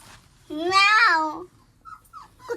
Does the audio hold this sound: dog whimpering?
yes